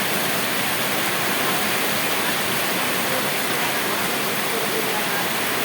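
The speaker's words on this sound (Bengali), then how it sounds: "আজকে বৃষ্টি থামছেই না" Heavy monsoon rain pours down outdoors in a steady, dense, loud roar of broadband noise that runs unbroken throughout, close and enveloping.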